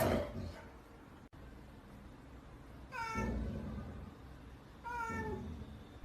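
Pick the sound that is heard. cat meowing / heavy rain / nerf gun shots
cat meowing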